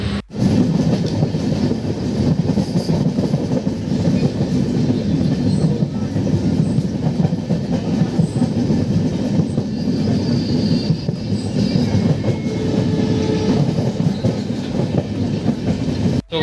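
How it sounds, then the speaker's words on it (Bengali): Passenger train running steadily through forest, a continuous loud rumble with rhythmic clickety-clack of wheels on rails, heard from inside the carriage; a brief voice appears once. "আমরা এখনও ট্রেনেই আছি।"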